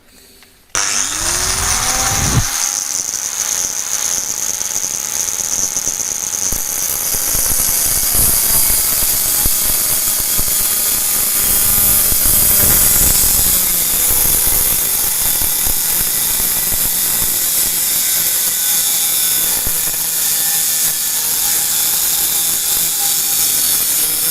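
A RotoZip Rebel two-speed rotary power tool starts up and runs continuously with a loud, steady high-pitched whine and buzzing harmonics, alone with no talking.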